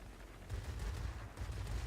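Aircraft machine guns firing from a Mitsubishi A6M5 Zero fighter in the video game Warplanes, a faint, steady low rattle of rapid bursts with a short gap before it resumes.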